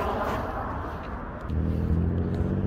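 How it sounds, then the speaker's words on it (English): Cars drive past on a road right beside the listener, a continuous rumbling roadway hum that swells into a louder, closer engine pass about halfway through. "you might hear some cars driving by it's because i'm right next to the road"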